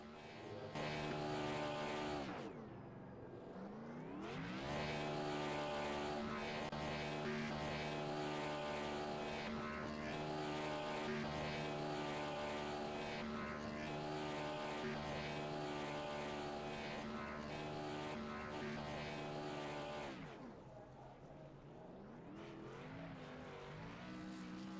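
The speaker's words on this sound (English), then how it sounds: "doing nothing but bouncing off the rev limiter" A race car engine in a racing video game, running an oval at Darlington, drones at a steady high pitch as it bounces off the rev limiter for about twenty seconds, with brief dips in pitch near the start and end.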